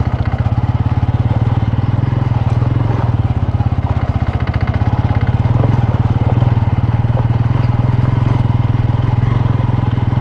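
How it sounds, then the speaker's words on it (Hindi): An off-road motorcycle chugs slowly along a rough route, its engine thumping close and steady at low revs with a clattering, pulsing rhythm. "बड़े आराम से चलानी पड़ती है यहाँ पे बाइक।"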